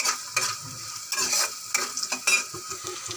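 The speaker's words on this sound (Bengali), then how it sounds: "আলু ক্যাপসিকাম আর ফুলকপি যেগুলো ছিল এগুলো ভেজে নিলাম" Potato, capsicum and cauliflower fry in a pan for pasta with a soft sizzle, while a utensil stirs and scrapes in irregular bursts close by. No talking.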